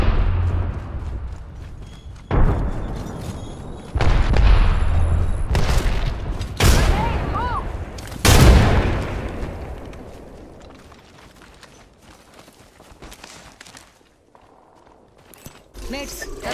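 A frag grenade explodes amid gunfire in Apex Legends: several sharp booming blasts and bursts of shots over about sixteen seconds, loud and close, with voices talking between them.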